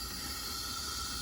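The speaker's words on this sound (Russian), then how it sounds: "Немножечко шипит вниз, слышно." Compression hissing past the piston rings of a Volvo D13C engine during a leak-down check, a steady, faint, airy hiss running continuously through the whole short moment with no voices.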